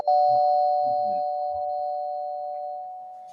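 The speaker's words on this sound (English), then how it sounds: "that's a doorbell" A sustained electronic chime tone rings out and slowly fades, with a few faint clicks underneath.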